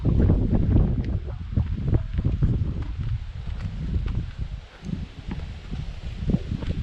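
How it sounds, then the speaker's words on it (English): Wind blows steadily outdoors at a cave park in Stanton, Missouri, a continuous rough rumble with gusty buffeting against the microphone and no one speaking. "Getting a little breezy out here."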